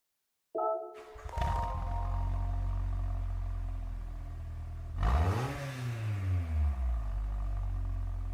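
A modified four-cylinder Suzuki Jimny XC in Gran Turismo 7 fires up and settles into a steady idle, then revs sharply in a rising and falling surge followed by a few quick throttle blips.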